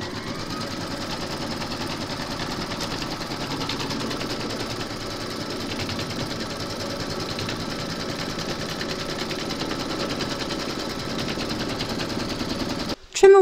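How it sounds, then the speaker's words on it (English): Embroidery machine stitching a hooped appliqué outline for a large parrot design, a long unbroken rapid chatter of the needle at even volume, ending in a short jolt. "Pop your hoop into your machine and stitch round number two to secure it."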